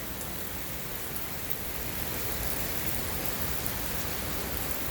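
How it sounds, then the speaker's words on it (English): Steady rain pours down during a small Florida storm, a dense, even hiss of drops hitting surfaces that stays constant and close throughout, with no voices. "That stuff coming down, it's called rain"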